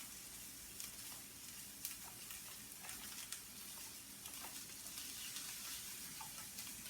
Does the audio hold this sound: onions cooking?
yes